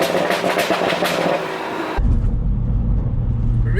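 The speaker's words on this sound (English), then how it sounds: "It's got a straight pipe, so you're getting a lot of those pops and bangs" BMW M140i with a decatted, straight-piped exhaust, loud and close, rumbling with a dense run of sharp crackling pops and bangs before settling into a deep, heavy drone.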